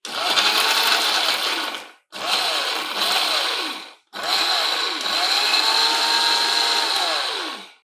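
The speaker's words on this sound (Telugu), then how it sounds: "మళ్ళీ ఒకసారి గ్రైండ్ చేస్తే ఉప్పు, కారం, చింతపండు, కొబ్బరి అన్నీ కలిసి చక్కగా తయారవుతుంది" A kitchen mixer grinder whirs loudly through coconut, chilli, tamarind and salt in three close bursts, the motor pitch rising and sagging as the blades churn the mixture, with brief stops between runs.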